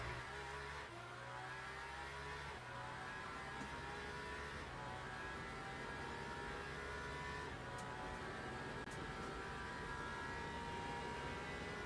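Race car engine in Le Mans Ultimate on the Le Mans circuit, droning steadily with pitch shifts as it brakes and downshifts, loud and continuous with no talk.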